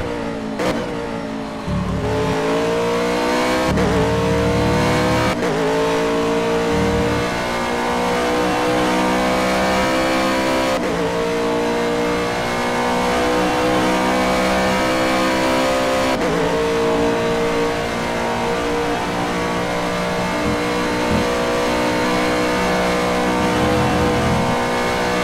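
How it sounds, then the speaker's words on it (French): Aston Martin GTE race car heard onboard during qualifying at Spa-Francorchamps, the engine screaming loud and close, climbing through gears with sharp shift breaks and brief lifts before surging again. "On suit le pilote Aston Martin en caméra embarquée maintenant. Et on vous laisse profiter un petit peu du son"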